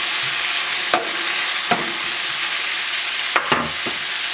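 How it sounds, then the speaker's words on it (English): Beans and greens frying in a pan, with a constant loud sizzle and a few sharp scrapes and taps of a utensil as they are stirred. "Stir it up a little bit."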